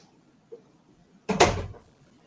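A single door shuts with one solid, close thud and a short rattle, preceded by a faint small knock in an otherwise quiet room.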